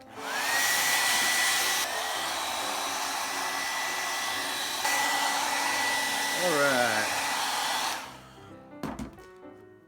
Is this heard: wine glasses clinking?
no